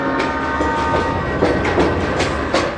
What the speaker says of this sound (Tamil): ட்ரெயின் கிளம்பிடுச்சு